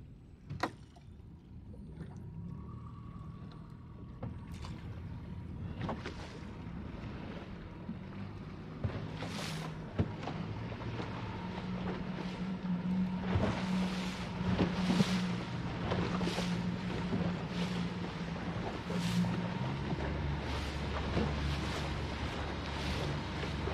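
A small boat trolls offshore, its engine a steady low drone under continuous wind and splashing water, with occasional knocks and thumps, and no voices.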